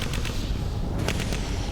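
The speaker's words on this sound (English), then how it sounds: "Initiating gunfire." Gunfire sound effect for a parody armed Mars rover: a short volley of several sharp reports rattling over a continuous low rumble, loud and close.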